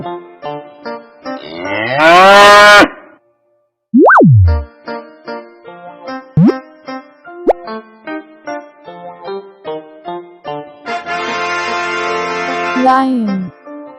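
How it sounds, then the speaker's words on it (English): A cow moos in a toy-like animal-sound sequence: a long, loud drawn-out moo follows brief musical tones, with a springy boing effect and further jingly music after it. "Cow."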